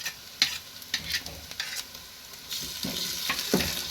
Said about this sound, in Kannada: ಟಮಾಟೆ ಹಣ್ಣು ಸ್ವಲ್ಪ ಫ್ರೈ ಆಗಲಿ